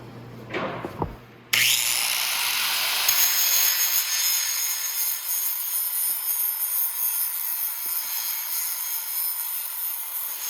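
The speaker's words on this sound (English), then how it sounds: "I'm just going to give it a quick grind just so it's clean around the hole" A motorcycle exhaust flange being cleaned up with a grinder: a brief clatter, then the tool starts and runs as a continuous loud, high whine for several seconds with slight variations in load.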